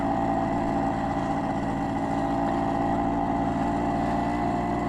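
A 1959 BSA Bantam D3 vintage motorcycle on the move, its small engine droning steadily and fairly loud throughout, with a continuous rumbling hum and no voices.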